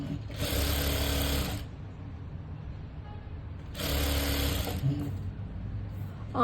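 A sewing machine stitches a boat-neck blouse in two close, rapid whirring bursts of about a second each, separated by a quiet pause.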